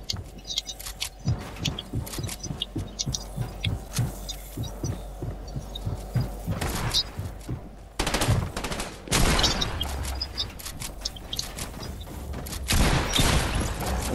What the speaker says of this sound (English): Two people shot at me, I'm dead.